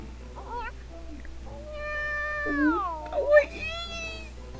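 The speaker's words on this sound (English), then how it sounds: "It's just a cat, huh?" A cat meows several times in the visual novel game Nekopara, clear drawn-out rising and falling cries close up, with brief talk around them.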